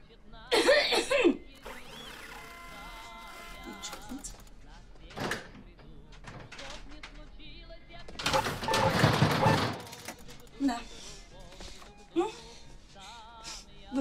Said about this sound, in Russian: немножечко кашлянешь, двери открываются сами собой